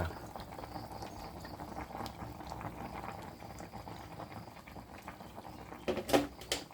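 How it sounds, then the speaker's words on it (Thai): Fish soup bubbles at a rolling boil in a pot, a soft steady seething with small pops, fairly faint, with a brief clatter near the end. "เดือดปุ๊บปุ๊บปุ๊บเลยพี่น้อง"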